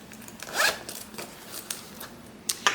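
A zipper on the pocket of a quilted fabric clutch is pulled in a few quick, close rasping strokes, with short sharp zips separated by brief pauses.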